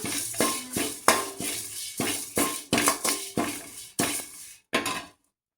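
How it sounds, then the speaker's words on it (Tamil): Curry leaves roasting in a pan for homemade rasam powder, with a spatula stirring and scraping in a steady series of about a dozen sharp metallic clinks and scrapes, close and fairly loud, with no voices. "இப்போ கருவேப்பிலை போட்டு வணக்கிக்கலாம்"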